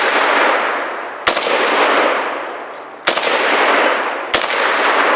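Three sharp, loud rifle shots from an American-made AK, spaced unevenly over several seconds, each a hard crack over steady outdoor wind noise, with no talking between them.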